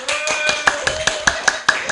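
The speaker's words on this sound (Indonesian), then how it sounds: "Beri tepuk tangan yang meriah." A small group claps in a rhythmic, evenly spaced pattern to welcome a guest, a chess athlete, on a podcast set, with the beats close and fairly loud over a steady background tone.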